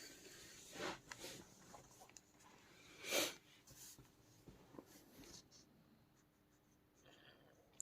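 A pen or chalk scratches across a surface during a maths lesson, making soft, intermittent strokes with a few louder scrapes. The sound is faint, close, and the room is quiet between strokes.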